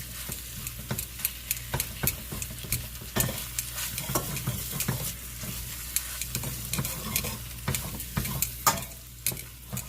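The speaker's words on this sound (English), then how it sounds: "I'm just gonna cook this beef up." Beef fries in about two tablespoons of hot vegetable oil in a pan over medium-high heat, with a constant close sizzle and frequent stirring scrapes and clicks throughout.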